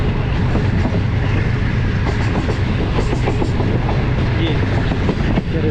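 Continuous rumble and rhythmic clickety-clack of the Awan Express passenger train rolling over rails, heard from on board, steady and fairly loud from start to finish.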